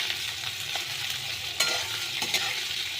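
Onions frying in oil for Bengali egg curry, a steady close sizzle with occasional spatula scrapes and knocks as they are stirred, no voices.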